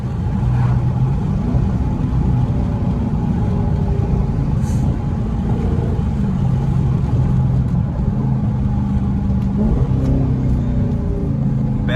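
A Dodge SRT 392 car engine revving hard to warm up its tires, a loud, continuous low roar and rumble heard from close inside, holding steady without pause and with no voices.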